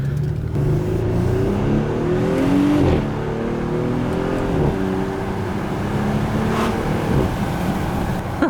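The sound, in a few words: Audi SQ5 car driving and accelerating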